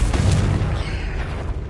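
A Confringo blasting spell explodes in Hogwarts Legacy with a loud, deep, rumbling boom that fills the whole moment and decays slowly.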